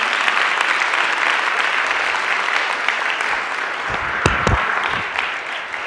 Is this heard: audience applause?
yes